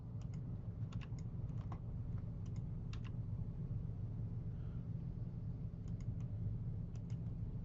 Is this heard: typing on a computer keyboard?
yes